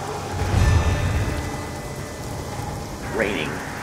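Soft, steady rain patter in the video game Call of Duty Zombies, Origins map, fills the background, with a low rumble early on and a brief rising tone near the end.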